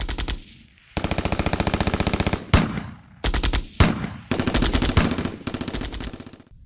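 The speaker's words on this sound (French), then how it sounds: "Les arbres sont découpés par les rafales de balles incessantes." Machine guns fire in long rapid bursts as a war sound effect, loud and close, with several sustained volleys separated by brief gaps.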